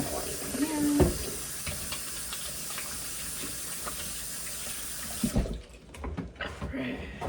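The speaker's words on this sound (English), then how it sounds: "I'm gonna wash my hands." Steady hiss of a kitchen tap running as hands are washed under the water, a continuous splashing flow with a few clinks before it cuts off and the room goes quieter.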